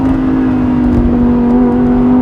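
A Lamborghini Huracan with 75,000 miles idles and revs close by, a loud steady engine hum with a strong droning tone and slight rises in pitch.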